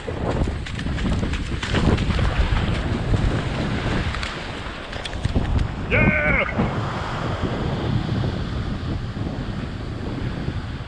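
Surf washing onto a quiet southern coastal beach, a steady broadband wash of waves with wind buffeting the microphone throughout, and a brief tonal whine near the middle.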